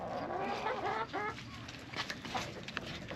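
Chickens clucking close by, a run of chattering calls followed by scattered softer clucks.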